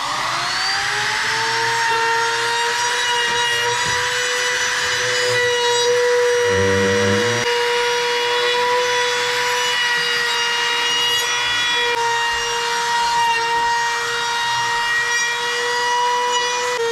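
A power saw cuts 2x4 lumber for a heavy-duty shop workbench, giving a loud, continuous whining drone that holds steady throughout with a brief rougher grinding burst partway through.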